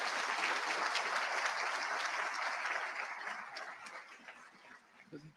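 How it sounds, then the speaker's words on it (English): An audience at a school district celebration of excellence claps loudly in sustained applause for school leadership, the clapping holding steady before gradually thinning and fading out. "So let's give the leadership a big round of applause."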